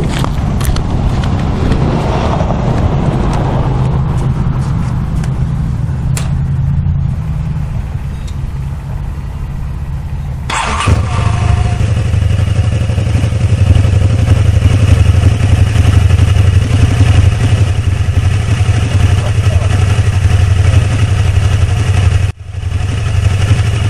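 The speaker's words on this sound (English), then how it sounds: "Thought I would start the motorcycle and let it run a little bit." A 2009 Aprilia Mana motorcycle cranks over and settles into a low, steady idle, rumbling loud and close. After about ten seconds the note shifts to a fuller, louder idle, then holds with a short dip near the end.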